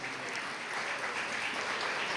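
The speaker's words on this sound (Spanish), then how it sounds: "Un fuerte aplauso" A crowd claps steadily and fairly loudly at a school awards ceremony, the applause dense and continuous throughout with no distinct voices over it.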